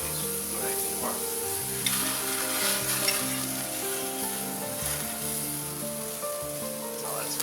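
Salmon and vegetable skewers sizzle on a grill with a dense, steady crackling hiss that holds evenly throughout, heard over faint background music.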